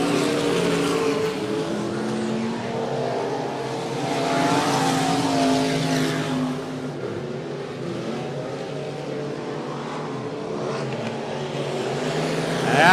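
Race cars roaring around the 105 Speedway oval track, a dense, continuous blend of engines at steady high revs with overlapping tones from several cars passing by.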